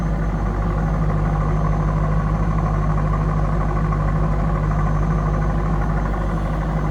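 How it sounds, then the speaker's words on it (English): A 1998 Chevrolet Corvette coupe idles with a deep, steady exhaust note, a loud continuous low rumble that holds unchanged from start to finish, no voices present. "It's a nice sounding old deep exhaust note."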